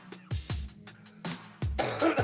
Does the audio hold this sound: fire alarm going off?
no